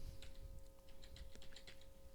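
Computer keyboard keys pressed while playing a strategy game, a quick irregular run of soft, faint clicks and taps over a low steady hum.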